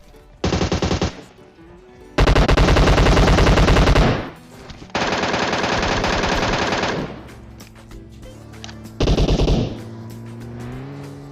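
Loud bursts of rapid automatic gunfire in PUBG Mobile, four separate sustained volleys, with a vehicle engine droning between them.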